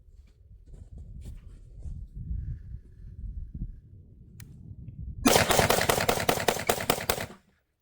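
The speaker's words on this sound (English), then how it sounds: "I was just mag dumping this and kind of playing around to see if I could even get a jam" A Bannock rifle is mag dumped, a fast, evenly spaced string of sharp gunshots lasting about two seconds and ending abruptly, preceded by low rumbling handling and wind noise outdoors in the cold.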